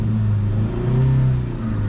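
A car engine revs while pulling away in first gear, a loud steady mid-pitched drone rising slightly in pitch, close and without voices.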